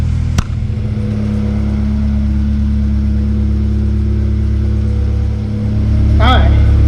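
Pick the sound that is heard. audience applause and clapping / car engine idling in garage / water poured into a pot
car engine idling in garage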